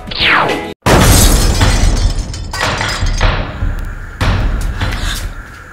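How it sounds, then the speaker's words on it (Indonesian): An old TV explodes with a sharp, loud blast followed by crashing, shattering debris and several heavy thuds that decay over a few seconds, close and alone. "Kok bisa meledak begitu sih TV-nya?"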